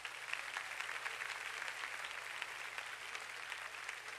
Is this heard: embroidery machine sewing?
no